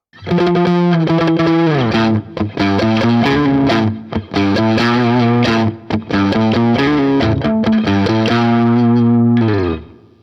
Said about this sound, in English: that was a bass line because this is a bass 6